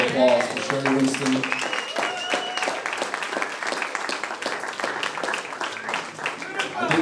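Audience applause for a performer at a 45th anniversary arts event at the Jersey City library, a steady crowd clapping that runs the whole time while voices and a tonal, music-like sound rise over it.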